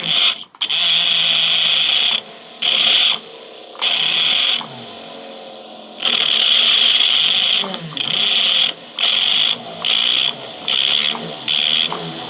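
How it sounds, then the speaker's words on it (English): A micromotor running at too high a speed as it textures a piece of copper, a loud high-pitched whine that starts and stops in repeated bursts of varying length, with no talking. "I think the speed is too high on my micromotor."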